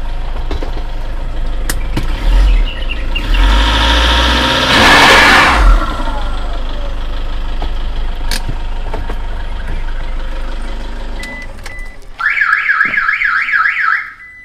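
A 2012 Toyota Grand Innova V diesel with automatic transmission revs up loudly and falls back to a steady idle, and a warbling electronic alarm-like tone joins near the end.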